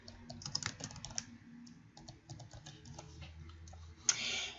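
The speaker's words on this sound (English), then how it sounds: "so I'll type mine in" Typing on a computer keyboard, a close, quiet run of irregular key clicks with short pauses and a brief louder burst near the end.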